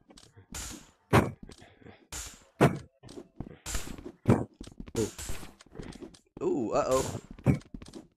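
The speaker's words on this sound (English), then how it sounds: "What is that noise every time you shoot?" Sharp, hollow thunks of paintball gun shots in Rec Room pop repeatedly at irregular intervals, close and fairly loud, mixed with people talking between the shots.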